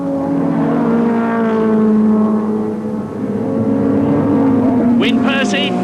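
Nissan Skyline R31 GTS-R and Ford touring cars racing closely in the 1988 British Touring Car Championship, their engines droning loud and continuous, with a rising whine near the end under a commentator's voice.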